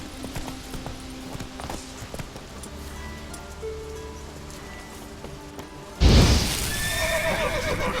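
Roach, a horse in The Witcher 3, gallops with steady clip-clop hoofbeats and a loud neigh partway through, set against ambient game sounds.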